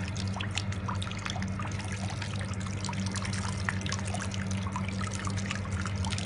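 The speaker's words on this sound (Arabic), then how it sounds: "قاعد اغسل لكم الحين التفاحة بالماي الحار" Running hot water splashes steadily over an apple under a tap, a continuous close trickle and pour with no pauses.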